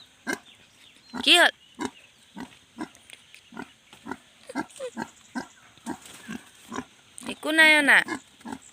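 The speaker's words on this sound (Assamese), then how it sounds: "এইটো গাহৰি আমাৰ।" A pig kept at a family home gives a run of short rhythmic grunts with two louder squeals, while people talk nearby.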